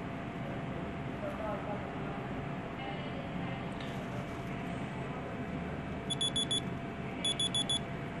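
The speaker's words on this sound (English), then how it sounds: "If you start this phone, your phone will beep." A phone beeps after being triggered from a Colmi i2 smart watch, giving two short bursts of rapid high electronic pips near the end over steady room noise.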